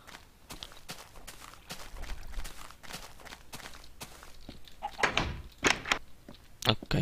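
A wooden door in the video game Minecraft, several dull knocks and thuds followed by louder clunks, with scattered footstep-like taps between them.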